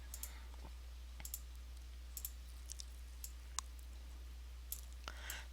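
Sparse, quiet computer mouse clicks while working in Photoshop, single and double clicks spaced irregularly over a faint steady hum.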